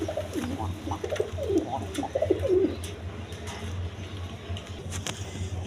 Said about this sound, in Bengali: এখানে এক পেয়ার টেরি কবুতর আছে